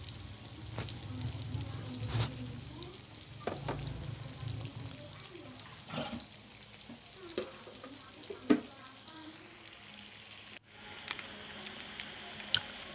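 Tempeh fries in a pan with a quiet, steady sizzle, broken by intermittent knocks and scrapes of a utensil and a few louder pops, heard close up.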